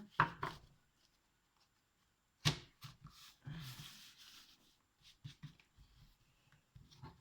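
Tarot cards shuffled by hand in irregular bursts of papery riffling and soft taps, close and fairly quiet, with pauses between flurries.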